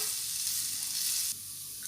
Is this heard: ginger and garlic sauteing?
yes